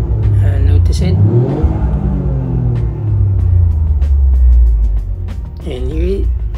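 A modified 2022 Toyota GR Yaris engine gives a deep, loud, continuous rumble that swells and eases. A voice speaks over it near the start and again near the end.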